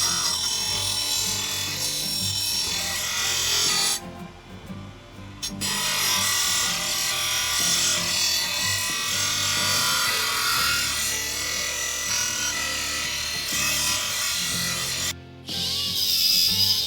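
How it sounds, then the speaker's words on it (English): Metal file rasping burrs off a battered, nicked Husqvarna lawnmower blade, a steady scraping and rubbing that runs nearly continuously with a couple of brief pauses, close and fairly loud. "take a file to get rid of some of the burrs"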